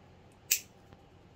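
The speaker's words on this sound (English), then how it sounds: "I'm going to take these springs off by just using a pair of wire cutters and just cutting" A single sharp metallic snip from wire cutters biting through a loop on a metal spring of a plate bracket, close and crisp, followed by a faint tick, with otherwise quiet room background.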